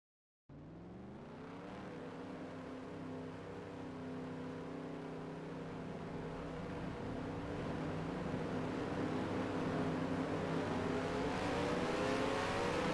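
Race cars in the NR2003 racing video game at Lowe's Speedway come out of the pits, engines starting abruptly and droning steadily, layered and rising in pitch as they accelerate, with no talking.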